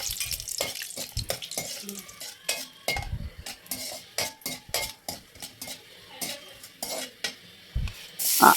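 Whole spices, a bay leaf, cloves, cardamom and cinnamon, fry with cashews in a pan, a faint sizzle broken by frequent sharp clinks and scrapes of a metal spoon against the vessel in an irregular, busy rhythm.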